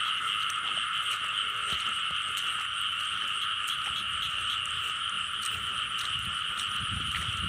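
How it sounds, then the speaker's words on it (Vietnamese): Frogs croak steadily at night in a rice field, a dense continuous chorus of calls layered over insect-like buzzing, with no talking. "Đây cặp ếch nè cả nhà ơi."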